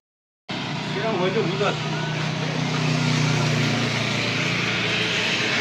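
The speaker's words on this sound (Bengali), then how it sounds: "পিছনে গাড়ি আসছে কত জোরে জোরে" Cars and heavy lorries rush past on a rural roadside near Naxalbari in Darjeeling, making a steady loud roar of traffic that swells as a big vehicle nears, with voices talking over it.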